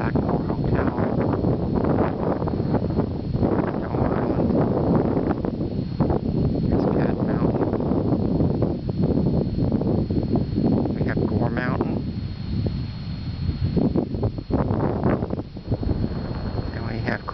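Breezy wind on a summer mountain summit overlooking Lake George, a constant loud buffeting roar across the microphone with gusty surges throughout, while someone talks over it.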